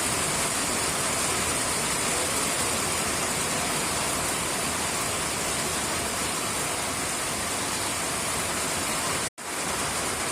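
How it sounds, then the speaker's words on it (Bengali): Steady downpour of heavy rain, a thick, close, continuous wash of water noise that cuts out for an instant near the end, with no one talking. "দেখেন কি পরিমাণ বৃষ্টি পড়তেছে, প্রচুর বৃষ্টি হইতেছে।"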